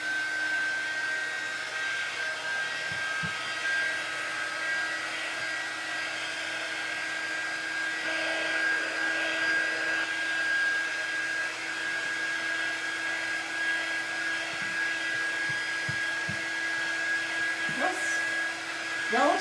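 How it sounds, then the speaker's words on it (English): A Magnolia heat gun blows steadily up close, a constant whirring fan roar with a high tonal whine and only slight variation, used for crafting Dollar Tree flower pouch banners. "this is my Magnolia heat gun."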